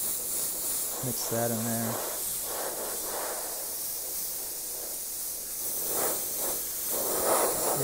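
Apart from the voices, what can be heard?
airbrush spraying yellow paint on softball helmet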